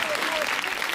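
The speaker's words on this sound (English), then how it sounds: "A nice round of applause." Steady applause from an audience, dense clapping filling the whole moment without a break.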